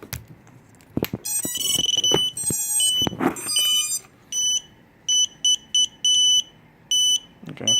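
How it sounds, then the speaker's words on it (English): An electronic beeper on a flight pack setup sounds a string of short, sharp high beeps in an irregular rhythm, loud and close, after some handling clatter. "My beeper's going off."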